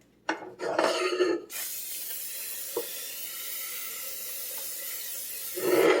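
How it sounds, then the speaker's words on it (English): A hot stockpot for shrimp stock gets a quick spray of oil, then hisses and sizzles steadily as it steams, a close, continuous hiss following a brief louder burst, with no talk over it. "See, it's steaming up already."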